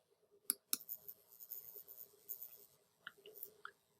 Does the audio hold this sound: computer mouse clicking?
yes